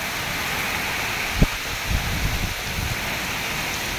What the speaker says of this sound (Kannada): ಭಾರಿ ಗಾಳಿ ಬಾರಿ ಮಳೆ.